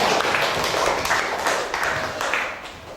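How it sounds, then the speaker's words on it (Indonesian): A school class claps hands together in a steady burst of applause that tapers off slightly toward the end. "Oke, tepuk tangan semua."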